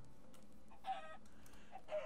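A Minecraft chicken clucks faintly in the video game, two short, soft clucks about a second apart over a quiet background.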